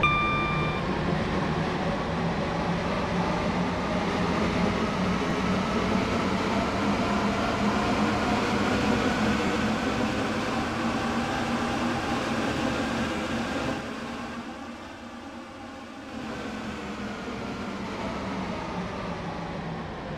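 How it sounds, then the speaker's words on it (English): A train running on the Stepford County Railway in the Roblox video game: a continuous rumbling, clattering drone that dips briefly and then resumes, with no talking. "This train is now approaching Bowden."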